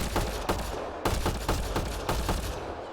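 Rapid gunfire from a scoped weapon in the video game Mass Effect Andromeda: a steady, fast run of sharp shots, with heavier reports roughly once a second, loud and close throughout.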